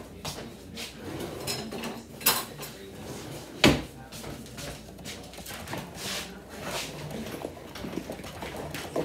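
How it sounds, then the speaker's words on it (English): Cutlery clinks and rattles in a kitchen as a spoon is fetched, with scattered sharp metallic clatters, one loud strike near the middle, and faint background voice. "let me get a spoon."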